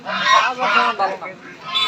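Ducks honk and quack loudly and close by at a busy rural poultry market in Haluaghat, Mymensingh, with a few overlapping calls over crowd murmur.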